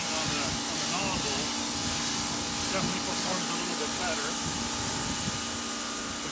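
A Simoniz 2100 electric pressure washer with a 25-degree nozzle blasts water onto a car, a steady broadband hiss of spray running without pause from start to finish, close and fairly loud.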